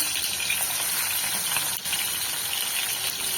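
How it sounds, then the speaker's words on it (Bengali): Shrimp fry in a pan of hot oil in a village home kitchen, a steady, close hiss and crackle of sizzling that continues without a break and briefly dips once in the middle. "এবার আমি পটলটা ভেজে নেবো, এই চিংড়ি মাছটা ভেজে নিই। বিসমিল্লাহ, চিংড়ি মাছটা দিয়ে দিচ্ছি।"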